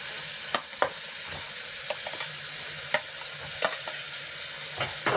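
Tomatoes, onion and green chilli being stirred in a hot oiled pan for banana stem soup: a soft, steady sizzle broken by sharp, irregular spoon scrapes and knocks against the pan, with no voices.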